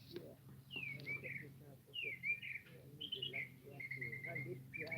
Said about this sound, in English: Those birds are talking.